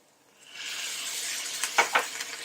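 Tomatoes tipped into a pan of half-cooked vegetables sautéing with a little salt set off a soft, steady sizzle that builds after a quiet start, with a few small clinks of a spoon near the end.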